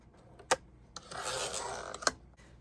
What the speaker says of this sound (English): I do have an edge there that I need to trim off